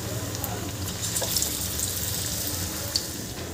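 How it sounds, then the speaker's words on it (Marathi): Bread pakoras deep-frying in hot oil, giving a steady broadband hiss and bubbling that stays at an even level throughout, close up, with a few faint crackles and no talking. "इथे मी सगळे पकोडे तळून घेते"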